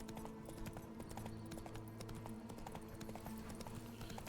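A horse gallops through vineyards in The Witcher 3 video game, its steady clip-clop of hooves running loud and close throughout over faint game music, with no talking.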